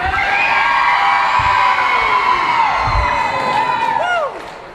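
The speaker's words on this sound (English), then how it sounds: "I want to hear you guys yell so loud the windows break." A wrestling event crowd yells, whoops and cheers loudly and continuously, with a few higher shouts rising above the roar before it eases slightly at the end.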